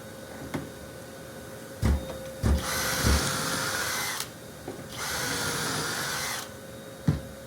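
A power saw cuts 2x4 wooden posts for a workbench in two loud sustained bursts, each a couple of seconds long, with knocks and thumps of lumber being handled before, between and after the cuts.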